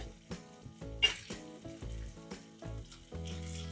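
Onions sizzle and crackle in a hot pan, with a steady frying hiss and occasional clinks of a utensil stirring against the pan, while making fish burgers.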